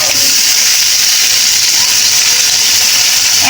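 Mutton pieces dropped into hot oil and browned spices set off a loud, steady sizzle and hiss that runs unbroken throughout.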